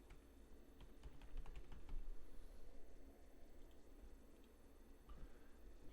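Quiet keystrokes on a computer keyboard as an administrator password is entered during a Windows Server 2012 setup, a short cluster of separate clicks early on, then fading into a faint room hum.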